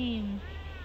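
A kitten at a rainy Pocheon campsite gives one short, close meow at the start, followed by quiet background.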